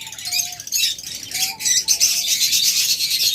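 A flock of lovebirds chirps continuously in dense, shrill chatter, several birds calling at once close by with no pauses.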